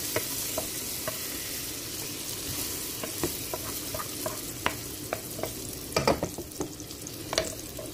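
Food in a frying pan sizzles steadily while it is stirred and mixed, with scattered clinks and scrapes of the utensil against the pan, close up and without talk.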